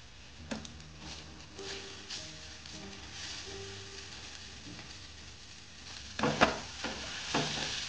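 Mashed pea filling for koraishutir paratha being stirred and spread to dry in a kadai, soft continuous sizzle with scraping and tapping of a spatula, louder clinks near the end.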